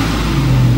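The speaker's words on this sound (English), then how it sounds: "this vehicle is brought to life from the left-hand side of the steering wheel too." A 2012 Porsche 911 Carrera S Coupe engine hums at a steady, close idle with a low droning tone, a brief, loud and even sound with no voices.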